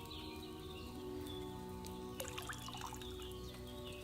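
Wine pours into a cauldron in the Kingdom Come Deliverance II video game, a faint continuous liquid trickle with a few splashy drips, over a low steady background hum.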